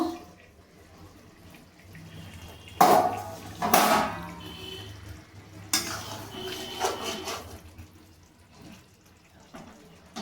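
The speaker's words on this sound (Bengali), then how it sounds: "এবার ঢাকাটা খুলে দেখে নেব" A lid is lifted off a pot of egg curry with boiled potatoes and pointed gourd, giving two sharp metallic clatters close by, followed by softer kitchen clinks and rustles against a low background.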